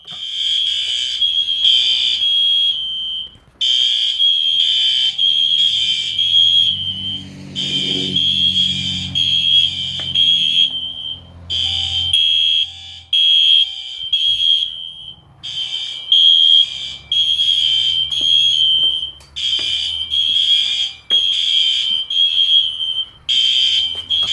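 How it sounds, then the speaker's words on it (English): A loud fire alarm system test sounds in repeated high-pitched electronic bursts with short gaps, while a lower mechanical hum rises and fades underneath. "it is finally time to pull the alarm"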